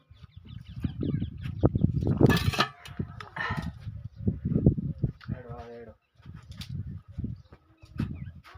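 A chicken clucks in short bursts amid people talking nearby, the clucks rising and falling between voices.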